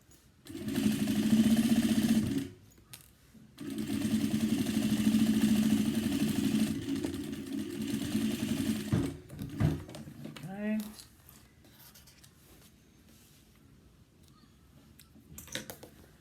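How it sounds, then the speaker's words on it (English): Sewing machine top stitching a cross body bag, running in two long steady bursts with a short pause between, then slowing into brief uneven stitches with a spoken remark near the end. "Sometimes my machine will just sit in the same spot if it's too close to the edge when I'm top stitching."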